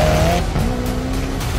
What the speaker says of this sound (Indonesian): Alasan mobil ini jadi salah satu mobil paling cepat di dunia karena mesin turbocharged V8 kembarnya.